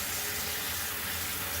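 A tap runs to dampen a washcloth, a steady, close rush of water without pause.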